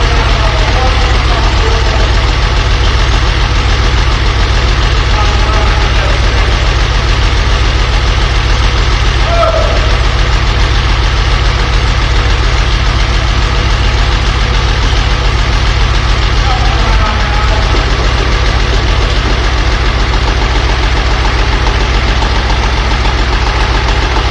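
A diesel Farmall tractor engine idles steadily and loudly throughout, with a constant low rumble and faint diesel knocking; a voice occasionally murmurs beneath it.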